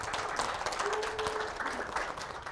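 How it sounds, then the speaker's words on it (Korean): A lecture audience gives steady applause after a speaker's introduction, a dense patter of clapping that continues evenly throughout at moderate volume. "뜨거운 박수 부탁드리겠습니다."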